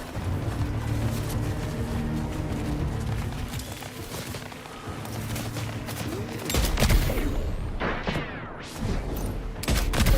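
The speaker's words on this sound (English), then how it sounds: "Who is shooting me?" Gunfire in the video game Death Stranding 2: a steady run of shots and rattling bursts continues throughout at moderate loudness, with heavier impacts and movement noise near the end.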